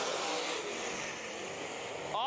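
Dirt track late model race cars roar together at the start of a heat race at Stuart Speedway, a loud sustained engine drone with a rising rev near the end, under announcer commentary.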